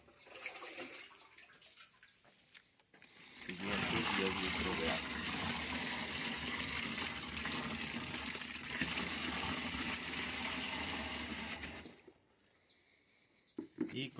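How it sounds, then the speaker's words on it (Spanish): Ten litres of water pour steadily into a humate fertilizer mixture, a continuous loud gushing rush lasting several seconds before stopping abruptly, with quieter background sounds before and after. "Vamos a agregar 10 litros más de agua en este momento."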